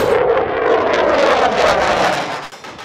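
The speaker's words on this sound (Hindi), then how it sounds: "Jet engine." A loud, broad roar of a jet engine fills the clip, steady and powerful before easing slightly near the end.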